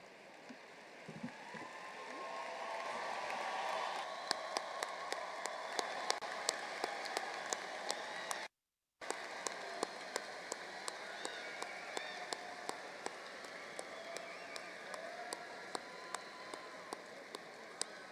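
A crowd applauds graduates at a university graduate school commencement ceremony, a sustained wash of clapping heard from a distance in a large hall that swells and then holds steady, with a brief dropout midway.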